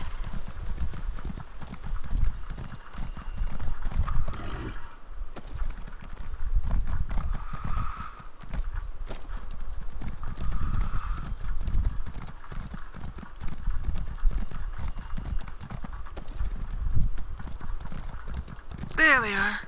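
Horse hooves clip-clop in a steady galloping rhythm in a video game, continuous and fairly close for the whole stretch. A player talks over them in places, and a brief sharp sound cuts in at the very end.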